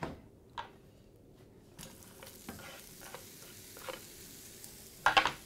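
Onions going into a hot oiled pan for chilli, with soft close sizzling and a few sharp clatters and scrapes of stirring, ending in a louder burst of frying.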